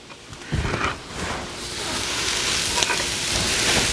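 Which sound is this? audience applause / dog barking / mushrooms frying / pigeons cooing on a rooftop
mushrooms frying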